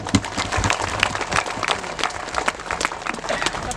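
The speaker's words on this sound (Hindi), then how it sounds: "उनके लिए जोरदार ताली बजा दीजिए।" A crowd applauds at a village celebration for a newly ordained priest, brisk uneven clapping from many hands, fairly close and sustained across the moment.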